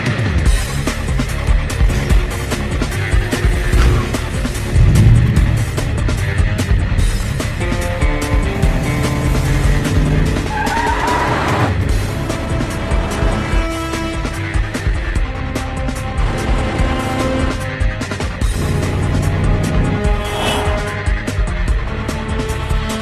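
A car drives up in a Hindi-dubbed South Indian action movie, its steady engine roar and tire noise mixed with loud background score throughout.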